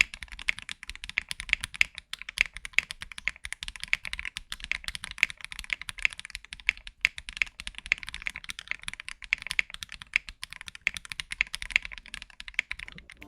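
Rapid mechanical key presses on a Meletrix Zoom 75 keyboard with flex cuts, a steady stream of crisp clicky clacks keeps going with no voices.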